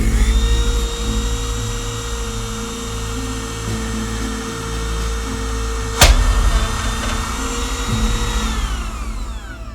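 A router plunges a compression pattern bit into a hole in a jig, a loud, steady high-pitched whine with one sharp crack partway through and the motor carrying on after.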